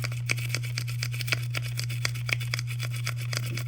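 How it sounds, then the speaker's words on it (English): A toothbrush scrubs a 1963 Corvette diecast model in quick, regular strokes, each brush pass a crisp scratchy burst over a steady low hum. "it's hard to get a toothbrush in there"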